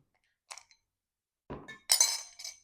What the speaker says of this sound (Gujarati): હું હમણાં ત્રણ ક્યુબ નાખું છું